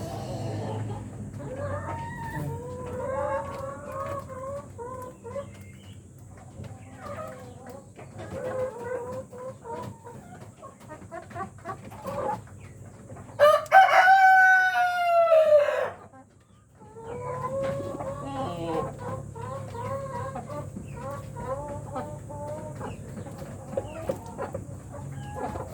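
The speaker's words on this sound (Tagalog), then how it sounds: "Yung rooster natin." A rooster in a breeder cage clucks steadily and close by over a low farmyard background, with one loud crow rising in the middle before the clucking resumes.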